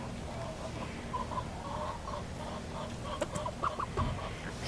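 Chickens and a rooster cluck softly and intermittently over a steady low background hum, with a few sharper calls near the end.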